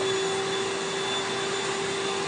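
A mini vacuum cleaner runs with a loud, steady whining drone and a constant airflow hiss, unbroken for the whole stretch with no voices.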